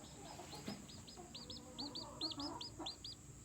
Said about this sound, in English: Here's the rooster big boy up there.